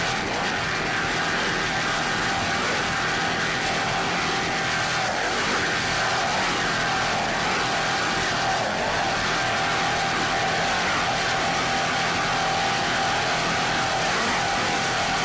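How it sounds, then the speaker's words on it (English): A 38-foot Cigarette offshore racing powerboat at the 1988 Holiday Isle race in the Florida Keys roars continuously at high power, a loud sustained engine drone mixed with wind and water rush in rough conditions. "Mandy Fernandez is obviously making a statement in his 38-foot cigarette. Just listen to this boat go right now."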